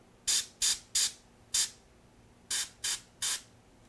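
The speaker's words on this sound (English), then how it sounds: "I'm spraying with the whitish yellow" Seven short, loud hissing bursts of a spray gun applying whitish yellow paint at high pressure, each about a third of a second, separated by brief pauses in an otherwise quiet space.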